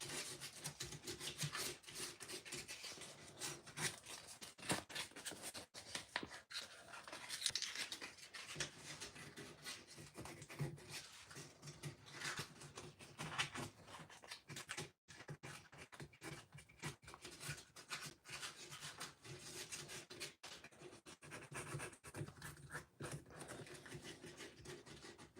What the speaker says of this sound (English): Just some light sanding around the face.